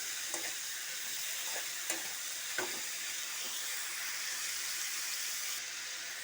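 Brinjal with salt and turmeric sizzles in a pan, a soft, steady frying hiss. A few light knocks from the stirring spoon land at irregular intervals, fairly faint and with no voices.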